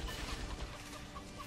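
Clucking chicken in the video game Dungeon Defenders, a short burst of repeated clucks in a busy game mix with no one talking.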